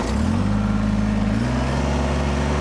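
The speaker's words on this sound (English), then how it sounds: "So we're going to start the machine up." A Kubota BX23s compact tractor engine runs close and loud, a steady mid-low diesel drone whose pitch steps up partway through as the revs rise.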